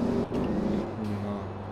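A Porsche Panamera Turbo engine in a simulation video game hums at a low, steady idle with a slight rev at the start, fairly quiet and alone.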